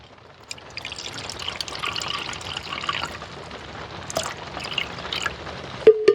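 Water is poured and trickled into a measuring cup inside an RV kitchen, a soft continuous splashing stream lasting several seconds, ending with a couple of small knocks.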